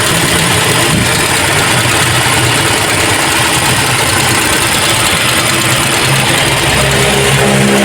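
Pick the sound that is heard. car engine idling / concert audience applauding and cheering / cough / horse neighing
car engine idling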